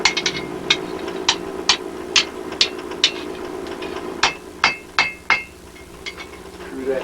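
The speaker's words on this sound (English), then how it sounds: "Just keep going around, going around, going around, going around, going around, going around, going around. And you see we're bending that into a circle." Hammer blows on metal at an anvil as a bar is bent into a circle during beginner blacksmithing, a steady run of sharp ringing strikes, some faster and doubled, loud and close with no talk.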